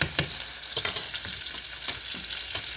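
Garlic frying in a pan, a steady close sizzle with occasional scraping stir strokes over it and no talking.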